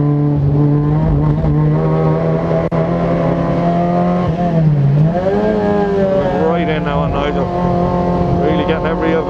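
Fiat Punto race car engine in a racing video game, a steady droning whine that rises and falls as it shifts and revs, with other car engines around it and a voice talking over it throughout.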